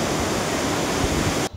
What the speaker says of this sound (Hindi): वाटरफॉल देख लें कितनी शानदार है